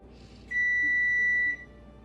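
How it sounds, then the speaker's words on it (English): A kitchen oven signals it has finished preheating with a single sustained electronic beep lasting about one second, clear and pure, with quiet room tone before and after. "My oven just beeped, so I have to hurry up and go put this inside."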